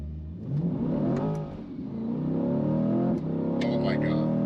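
Chevy Corvette Stingray 3LT accelerating hard with wheel spin, the engine revving up, briefly dropping at a gear shift, then climbing again, loud and close from inside the car.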